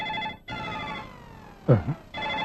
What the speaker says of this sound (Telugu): ఫోన్ రింగ్ అవుతుంది అక్కడ.